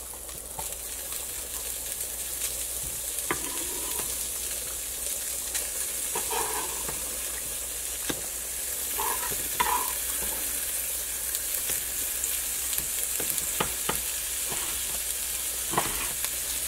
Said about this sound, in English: Still got the beans cooking